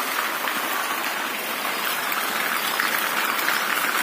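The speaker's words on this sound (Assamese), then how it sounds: "বৰষুণ এতিয়ালৈকে এৰা নাই" Steady rain falls continuously outdoors, a dense even hiss of drops on surfaces with no pauses and no voices, moderately loud and unchanging across the moment.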